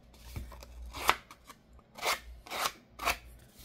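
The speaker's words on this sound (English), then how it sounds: "You can also do it with scissors." Scissors rough up the edges of paper for a ruffled look on a pink journal's inside cover, giving several crisp crunchy snips and scrapes in uneven bursts, close and moderately loud with no talking.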